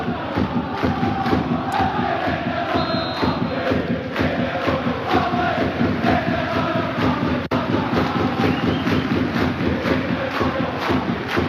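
Celtic football fans chant and clap as a dense, loud crowd, voices merging into a steady roar with rhythmic hand claps throughout.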